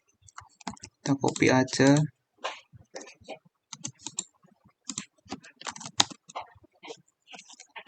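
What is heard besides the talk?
typing commands on a computer keyboard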